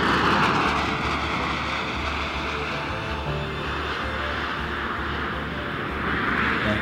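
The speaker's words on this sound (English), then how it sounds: "Main gear touchdown." Space Shuttle Columbia touching down on its main gear and rolling out on runway 33 at Kennedy Space Center, a steady distant roar with low rumble and a faint tonal whine, no speech.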